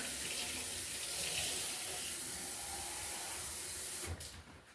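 Hot water gushes from a kitchen tap in a steady, loud, hissing stream, continuing unbroken for several seconds before the flow is shut off and fades.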